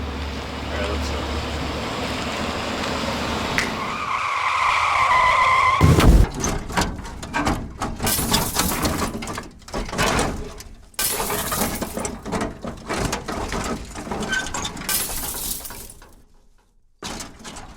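Staged car crash at a mock crash event: a long tire skid builds over several seconds, then a sudden loud impact with shattering glass, followed by scattered debris and crunching noises that trail off near the end.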